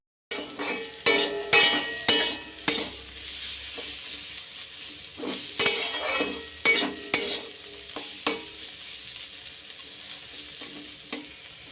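A thin vegetable curry with potato and eggplant cooks in a pan. A spoon stirs and scrapes through it with clinks and knocks over a soft, steady sizzle, close up and without talk.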